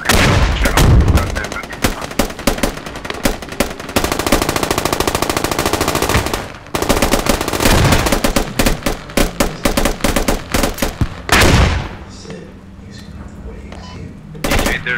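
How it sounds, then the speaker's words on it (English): Sustained automatic gunfire in the military video game Squad, loud and dense bursts of rapid shots for most of the stretch, briefly pausing around the middle and tapering to quieter scattered fire near the end. "Let's put some rounds downrange."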